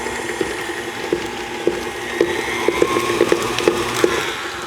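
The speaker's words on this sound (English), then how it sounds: "And then we'll give that a mix." An electric mixer beats eggs and a teaspoon of vanilla into creamed butter and sugar for bakery-style chocolate chip cookie dough, a steady close whir with repeated light clicks as the beaters knock the bowl.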